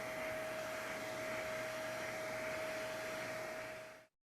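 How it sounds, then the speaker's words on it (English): Vacuum cleaner with its head passed over paper artwork, a steady loud whooshing hum with a high whine that runs unbroken before cutting off abruptly near the end. "So for paper, the technique is to move the head of the vacuum like this."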